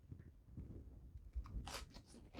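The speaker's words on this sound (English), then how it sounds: "It has a good crunch." Crunchy bite into a cracker topped with 1999 vintage MRE Thai chicken and cheese, a couple of crisp close crunches followed by chewing, with no talking.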